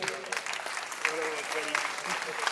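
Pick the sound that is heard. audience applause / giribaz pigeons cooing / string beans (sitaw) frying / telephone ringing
audience applause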